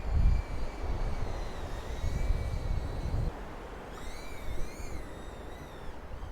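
A small drone flying in gusty wind outdoors at a fishing spot, its thin whining buzz wavering in pitch over a steady rush of wind, fairly distant.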